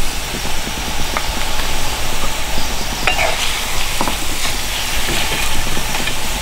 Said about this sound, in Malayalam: വെളുത്തുള്ളി, ഇഞ്ചി, പച്ചമുളക്, കറിയാത്തല, കടുക് എല്ലാം കൂടി ഇട്ട് നമുക്കൊന്ന് വഴറ്റിയെടുക്കാം